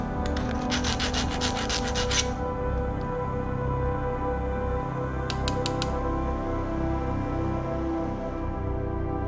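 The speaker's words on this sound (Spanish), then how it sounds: "Limamos las rebabas." Steady hand filing scrapes away burrs around a hole drilled with a 1/4-inch bit, a continuous close rasp with brief brighter bursts near the start and again midway, no talking.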